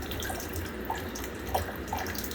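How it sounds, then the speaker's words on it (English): Clean water from a newly installed reverse-osmosis filter trickling into a drum in a pepper-growing setup, a soft steady low flow with faint splashy drips, heard alone. "that's not a lot of water flow."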